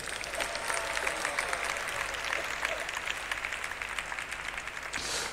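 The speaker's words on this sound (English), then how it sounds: "Please clap loud for Shudi Prabhu." Sustained applause from an audience at a temple wing grand opening, dense steady clapping throughout at an even level without pause.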